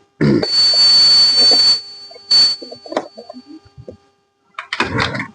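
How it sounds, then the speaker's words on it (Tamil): A Hero Duet motor scooter is kicked a few times, then its engine sputters and catches, with clunks and brief bursts of engine noise, close and loud. "கிக் ஸ்டார்ட் பண்ணுறேன் பாருங்கள்."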